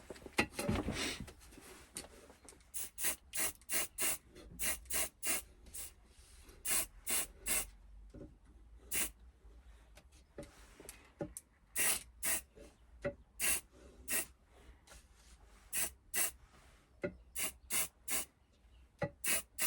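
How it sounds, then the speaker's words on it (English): Short hissing bursts from a spray paint can repeat in a steady rhythm, roughly two dozen sprays, each loud and close, with quiet gaps between them, painting yellow bridge plates on a WW2 vehicle. "All there is to do, give it a bit of spray paint"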